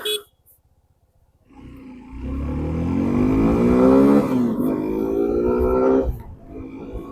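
A 2025 Suzuki V-Strom SX touring motorcycle pulls away after a quiet pause, its engine rising in pitch as it accelerates, loud and close for several seconds, then easing off.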